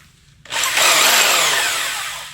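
A power saw cuts through a broken rear leaf spring on a Toyota Tacoma, starting abruptly after a short quiet moment and then grinding loudly and steadily up close.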